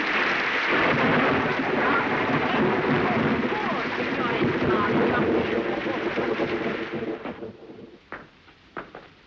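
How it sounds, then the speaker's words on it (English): Heavy rain and rolling thunder in a 1940 Abbott and Costello film, a loud, dense storm roar sustained for several seconds before fading into a few sharp isolated cracks near the end. "did nobody feel a drop of rain?"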